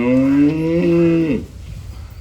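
A cow on a farm gives one loud, close, sustained moo lasting over a second before it breaks off into quiet outdoor ambience.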